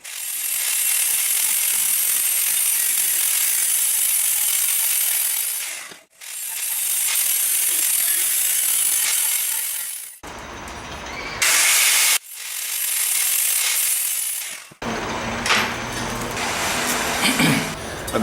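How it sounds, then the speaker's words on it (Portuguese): An angle grinder fitted with a porcelain disc cuts porcelain tile at a 45-degree miter, giving loud, harsh, high-pitched whines close by. They come in several long bursts separated by brief pauses. "E aí eu utilizo a maquita para fazer o corte desse jeito."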